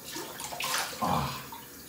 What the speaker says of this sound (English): Let me wash off with some cold water.